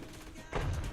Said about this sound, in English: Heard some gunfire.